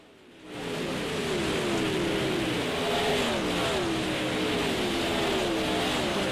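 A field of 360 sprint cars racing on the dirt track at Lanier, heard trackside as a loud, continuous engine roar with wavering, overlapping pitches that swells in within the first half second and holds steady.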